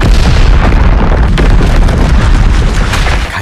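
A massive movie explosion in an alien-invasion time-travel film: a sustained, loud, full-spectrum roar that rumbles steadily for several seconds without letting up.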